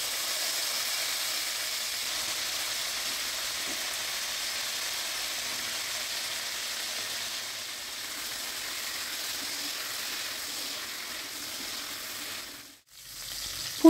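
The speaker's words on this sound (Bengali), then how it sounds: "এবার বাকি তেলের মধ্যে ফুলকপিগুলোও ভেজে নেব।" Cauliflower florets frying in leftover oil in a pan, a continuous even sizzle and hiss throughout, close and steady, with a brief dip near the end.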